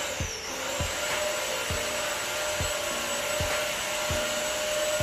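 A Mop n Vac Bend Series cleaner runs steadily and fairly loud, its constant motor whine and airflow hiss punctuated by soft rhythmic knocks roughly every second throughout.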